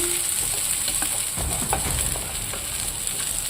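Soaked poha is stirred and fried in ghee in a pan, making a steady close sizzle with repeated scraping strokes of the spoon and no voices.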